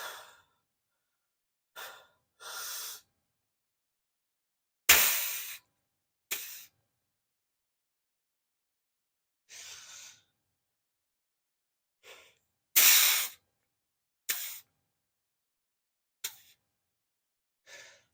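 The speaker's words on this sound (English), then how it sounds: "So you're trying to control your breathing" Heavy controlled breaths from a person flexing and holding a tight pose: a dozen or so separate sharp exhales and sighs, some forceful and close, with near-silent pauses between them.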